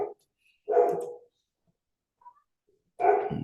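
A dog barks in two short bursts, the first near the start and a longer one toward the end, with quiet gaps between them.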